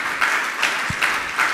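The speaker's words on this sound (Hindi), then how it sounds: "तालियां तो बजाइए आप" An audience at a Jain monk's question-and-answer discourse applauds in a short burst of dense clapping that swells in gentle waves, fairly loud and close, with no talking over it.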